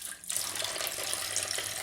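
Tap water pours steadily and evenly into a tub for washing faux suede polyester curtains, a continuous close hiss that starts abruptly after a brief lower rush and carries on alone without talk.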